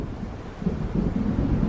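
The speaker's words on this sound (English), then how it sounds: "It seems there's a storm coming." Low rolling thunder of an approaching storm in the video game Alan Wake Remastered, a loud deep rumble that swells after a moment and continues with wind-like noise, no speech.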